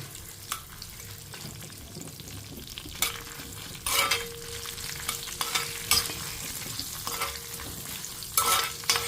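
Ingredients frying in a pan for pulla attu with mint chutney, a steady soft sizzle with intermittent louder stirring scrapes and splutters, close by and without speech.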